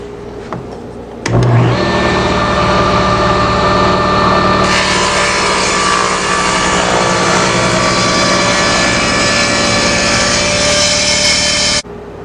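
Saw slicing through a scrap of wood for a cutting board, the offcut pinched against a stop block; a loud, steady machine whine starts abruptly, holds for about ten seconds, then cuts off.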